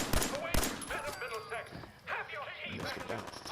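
Gunfire in Fallout 4: two sharp shots land in the opening half-second, followed by scattered game sounds mixed with voices.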